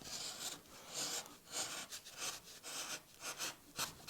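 A V-tool cuts a line along a carved wooden banner in a stylised tree relief, giving soft rhythmic rasping strokes, close and quiet, repeating about every half second.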